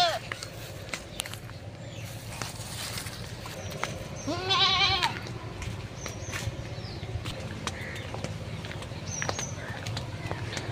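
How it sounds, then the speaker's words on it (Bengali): A goat bleats once in a wavering cry partway through, set among rural outdoor ambience in the Sundarbans with scattered clicks, knocks and background noise under overcast skies. "এই যে ছাগলটা ছাড়া দেবো নাকি?"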